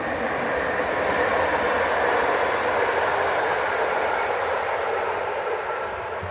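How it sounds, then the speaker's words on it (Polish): A train passes close by, a loud, steady rumbling roar that holds for several seconds and eases off slightly toward the end, with no voices over it. "Jedzie pociąg."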